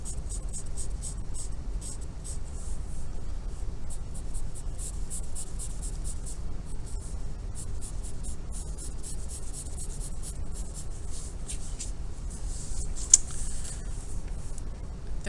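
Steady soft scratching of a pencil cross-hatching on paper to darken a shaded area of a scissors drawing, continuous close rasping strokes throughout with a faint background hiss.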